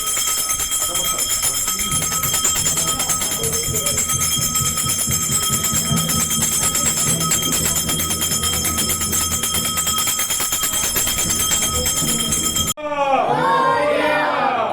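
At a Gauri Ganpati festival puja in a Konkan village, a jubilant crowd clamours amid continuous ringing bells and a rapid rhythmic beat, ending in a sudden burst of shouting voices.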